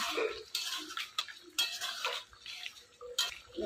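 A spoon scrapes and knocks around a pot of aloo paneer curry finished with garam masala and ghee, producing irregular close metallic clinks and stirring strokes with quiet gaps between them.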